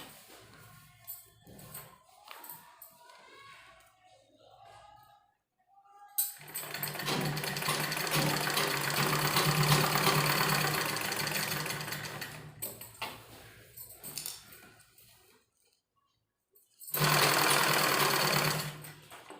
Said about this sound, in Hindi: पहले हम इस साइड से सिलाई लगाएंगे और फिर हम इस साइड से सिलाई लगाएंगे।